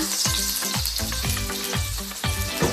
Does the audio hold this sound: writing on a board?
no